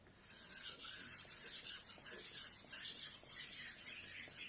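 Knife being sharpened on a Suehiro combination #200/#1000 splash-and-go whetstone, a steady continuous rasping rub of steel on wet stone with rhythmic strokes, close and alone.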